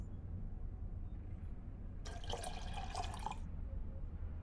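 Liquid pours into a dish for about a second and a half while diluting photo developer in the Black Mirror 2 game, a bright splashing stream rising from near silence and then cutting off.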